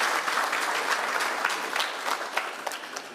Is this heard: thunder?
no